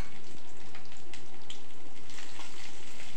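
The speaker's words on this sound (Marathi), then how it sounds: "तेलात ही फोडणी छान भाजल्यानंतर त्यामध्ये आपण घालणार आहोत 10 ते 15 बारीक चिरलेल्या लसणाच्या पाकळ्या" Ten to fifteen finely chopped garlic cloves frying in hot oil as a tempering for lasooni methi, giving a steady, close crackling sizzle that runs unbroken for a few seconds.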